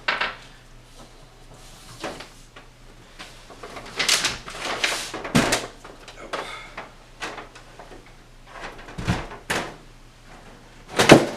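Someone removes the thick metal side panel of an NZXT Phantom 410 PC case, making scattered close clunks, taps and scrapes spread unevenly over several seconds.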